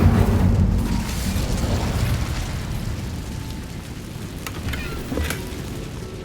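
Incendio fire spell cast in a Hogwarts video game: a loud, sustained roaring, crackling burst of flame that fills the whole stretch, with a few sharper pops near the end.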